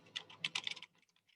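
Quiet, quick keystrokes on a computer keyboard while entering a search on a library website, a short burst of about a dozen soft clicks that trails off.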